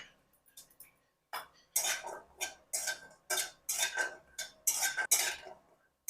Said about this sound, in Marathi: आता आपण अक्रूर गरम करून घेऊ